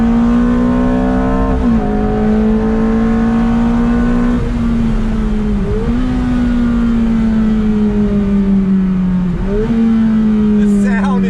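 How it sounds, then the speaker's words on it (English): A Ferrari F430 engine is on throttle, its loud, sustained roar from inside the car rising through the revs with brief dips at the gear changes and then climbing again. "On throttle. It's one of the best sensations in the world behind the wheel of this Ferrari."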